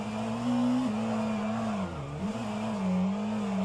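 A race car in a sim-racing endurance game does traction-control burnouts, a sustained engine drone holding high, dipping and wavering in pitch, then climbing back, close and loud.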